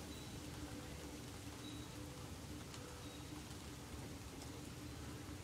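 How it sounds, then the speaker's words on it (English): Steady, faint hiss of rain falling during an evening storm, an even wash of noise with no voices. "Oh, here comes the rain."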